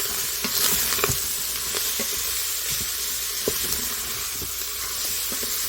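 Cabbage and potato cook down in a soup pot with a steady close sizzle and hiss, dotted with scattered soft pops and occasional stirring clicks throughout.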